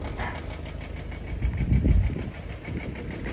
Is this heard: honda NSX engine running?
yes